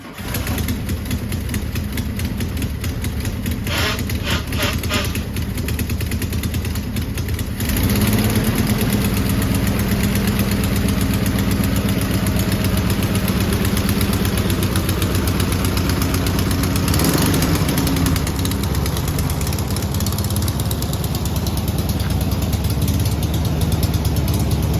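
An old VW campervan engine, a garden find started for the first time in 35 years, runs with a steady loud mechanical drone and a rough knocking pulse, revving slightly heavier partway through and continuing close and unbroken.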